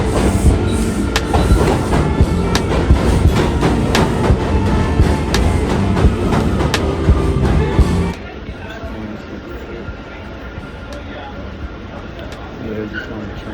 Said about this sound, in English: Yeah, just on the train right now.